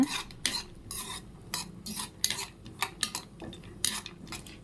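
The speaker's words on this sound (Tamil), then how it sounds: "ஸ்லோ ஃப்ளேம்லேயே வச்சு வறுத்துக்கோங்க" Vermicelli being roasted in a pan on a low flame, with a utensil stirring and scraping in repeated bursts over a faint sizzle, close and uneven in rhythm.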